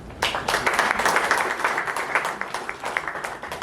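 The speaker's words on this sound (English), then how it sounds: "Can you please give him a round of applause" Audience applause at a soccer challenge media launch in Johannesburg, for the president of the regional football association: a dense, steady burst of many hands clapping that starts abruptly and holds fairly loud throughout.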